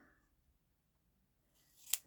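Scissors make a single quick, crisp snip through a strip of washi tape, brief and close after a near-silent pause.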